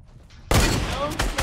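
Fortnite gunfire in a battle royale match: after a quiet lead-in, a sudden burst of loud shots erupts, followed by a few more sharp reports in quick succession.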